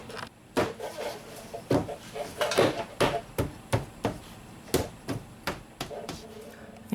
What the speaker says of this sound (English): We'll snap everything into place.